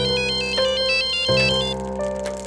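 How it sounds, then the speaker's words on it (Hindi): Mobile phone ringtone sounding for an incoming call, a steady repeating electronic melody with regular beeping pattern, loud and continuous with no talking. "प्रीति को उसके मोबाइल पर लोकेश और राकेश के फोन आने लगे।"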